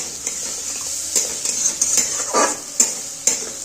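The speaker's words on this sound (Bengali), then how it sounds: "এই 4টে টমেটো আমি এর মধ্যে ছেড়ে দিলাম" Four whole tomatoes drop into a hot pan of cooking spices with ground black pepper. A steady close sizzle runs throughout, broken by a brief splashing hiss and scattered clinks of a utensil against the pan.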